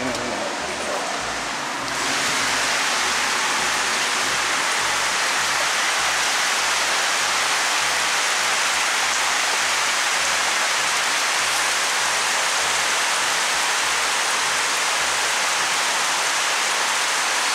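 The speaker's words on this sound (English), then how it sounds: "So outside, it's raining." Steady summer rain shower falls outdoors, a dense continuous hiss of drops on surfaces that swells louder after the first couple of seconds and holds through, with a faint regular low thumping beneath and no talking.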